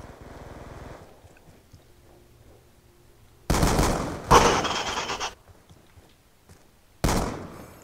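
Gunfire from the video game Black Ops 2 comes in several sharp bursts. Loud volleys are separated by quieter gaps, and short rapid-fire clusters stand out clearly above faint background game sounds.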